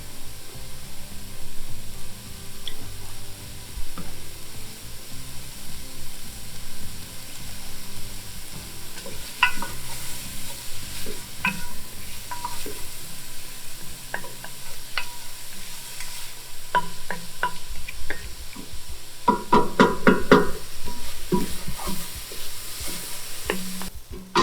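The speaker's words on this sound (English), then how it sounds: "You'll get a lovely smell from those onions with those spices, especially with the chipotle pepper while they're sauteing." Onions with spices and chipotle pepper sautéing in a pot give a steady, moderate sizzle, with scattered light clinks and scrapes of stirring toward the end and no talk.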